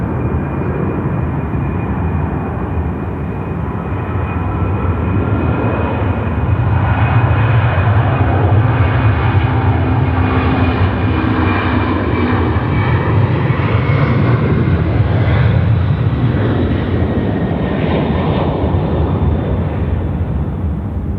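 Airplane engines roaring at Sydney Airport at night, a loud sustained drone that swells slightly midway, heard from close by without any talk over it.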